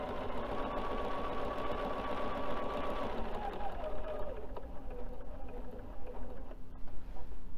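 Sewing machine running steadily while stitching around a beveled fabric placemat, a continuous close mechanical hum with a faint whine that shifts partway through.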